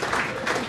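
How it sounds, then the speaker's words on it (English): Guests at the Gotcha4Life Mateship Luncheon at Bankstown RSL clap as a guest arrives, in a short, dense round of applause from a crowded room with a voice faintly underneath. "Round of applause for David."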